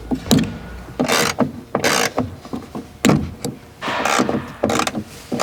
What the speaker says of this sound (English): grab your T50 Torx bit and then remove that plastic piece and unscrew the seat belts